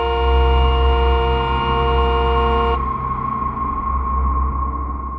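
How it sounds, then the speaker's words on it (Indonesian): A car horn in an animated horror scene blares loudly and continuously for nearly three seconds, then cuts off and leaves a lower steady tone and engine rumble trailing beneath, with nobody speaking. "refleks membunyikan klakson"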